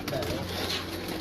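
Large pigeons of a competition loft cooing, a brief close low coo amid background noise, with faint voices nearby.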